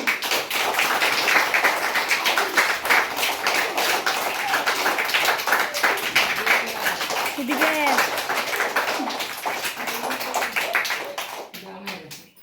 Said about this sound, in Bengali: দিদিমণির জন্য সবাই একটা হাততালি।